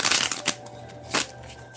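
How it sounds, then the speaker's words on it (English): A deck of oracle cards being shuffled up close, with two quick riffling bursts separated by a short pause. "And I feel led to one more shuffle."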